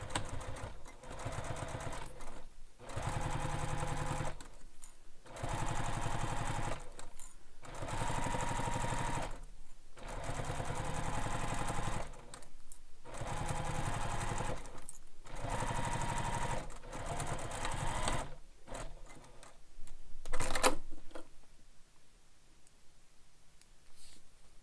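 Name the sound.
sewing machine stitching a bag handle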